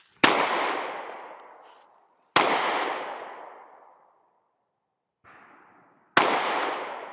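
Three loud, sharp Sig Sauer P320 compact pistol shots ring out seconds apart outdoors, each with a long fading echo, and a faint brief noise comes between the second and third.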